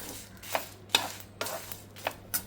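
Seeds dry roasting in a pan give off a few sparse, sharp crackles and pops, roughly five distinct snaps spread out over a quiet background hiss.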